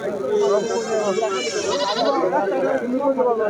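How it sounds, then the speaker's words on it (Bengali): A mother goat bleats at a rural goat market in Kaitla, wavering drawn-out cries mixed into the busy crowd, with people talking close by throughout. "এখানে একটি মা ছাগল দেখতে পাচ্ছি"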